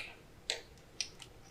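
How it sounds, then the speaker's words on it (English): Two or three small, dry clicks from the gear selector of a 1976 Ford Capri Ghia, close and fairly quiet, about half a second apart with a faint third tick, no voices. "Click."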